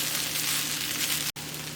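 Shrimp Hokkien stir-fry with green onion sizzles in a pan, a steady, close, even hiss broken by a brief dropout, with no talking.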